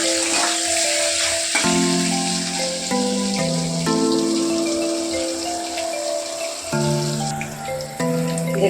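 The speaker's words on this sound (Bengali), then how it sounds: "এবার আমি কড়াইতে তেল দিয়ে দিয়েছি। এবার পনিরটাকে ভেজে নেব" Paneer fries in hot oil in a kadai, a continuous crackling sizzle heard under louder background music with sustained tones throughout.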